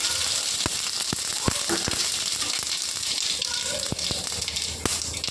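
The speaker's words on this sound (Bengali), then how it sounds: "এখানে কালো সর্ষে আছে, সর্ষেটা তেলের উপর দিয়ে দেবো" Black mustard seeds and dried red chili crackle and sizzle steadily in hot oil in a pan for a fish-head and sour-greens dish, with scattered sharp pops over a continuous frying hiss.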